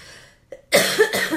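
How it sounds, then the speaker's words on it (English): A single harsh, close cough bursts out after a brief pause, followed by a second raspy cough. "Sorry, guys. Can't stop coughing."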